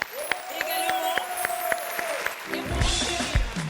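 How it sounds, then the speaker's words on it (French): A studio audience on a television talk show applauds, scattered distinct claps standing out at first before a voice speaks over the clapping toward the end. "On va applaudir très fort s'il vous plaît pour Kevin De Bruyne."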